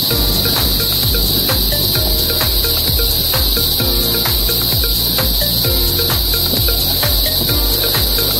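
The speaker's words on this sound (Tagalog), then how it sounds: "Kuliglig. Grabe ingay." Dense, loud cicadas buzz nonstop in a mahogany forest along a La Union cycling route, a steady high shrill drone over pulsing rhythmic chirring throughout.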